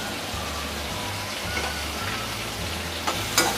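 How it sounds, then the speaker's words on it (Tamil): Tomatoes and onions sautéing in a pan for vadai kulambu make a soft, constant sizzle with a few stirring taps, while a low hum sits underneath. "தக்காளி வெங்காயம் நல்லா வதங்கணும்"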